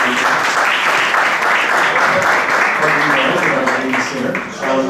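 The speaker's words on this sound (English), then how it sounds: "let's give Bhaktimarga Swami a big round of applause" A temple congregation gives a big round of applause for a visiting swami at an ISKCON gathering in Brampton, loud, continuous clapping that fills the room from start to finish, with faint voices mixed in.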